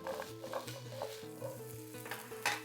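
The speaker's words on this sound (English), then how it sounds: "Once nice and hot, add those potatoes." Diced potatoes frying in hot oil over medium heat, a steady soft sizzle with stirring and a few light scrapes of a utensil in the pan, fairly quiet and close, no talking.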